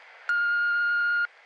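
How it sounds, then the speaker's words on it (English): A single steady electronic tone from an answering machine sounds for about a second, clean and constant, starting and stopping abruptly over faint background hiss. "So leave a message after the beep."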